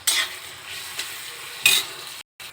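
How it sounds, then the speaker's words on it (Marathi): Onion roasting in a pan for a Wednesday-special dried-shrimp fry, a steady close sizzle lifted by a few scraping stirs at irregular moments, cutting out briefly near the end, with no talking. "कांदा असा छान भाजून घेऊया आपण."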